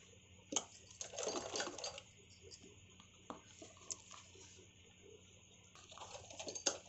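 A sewing machine stitches a decorative neck design onto a garment, running faintly in short, intermittent bursts with pauses between them.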